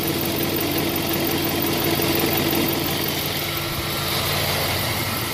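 A 2006 Chevy Tahoe LT engine idling after an oil pressure sensor change, a steady, even rumbling hum close by, loud and unbroken, with no talk.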